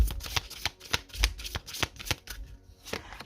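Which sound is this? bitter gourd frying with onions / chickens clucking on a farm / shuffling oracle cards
shuffling oracle cards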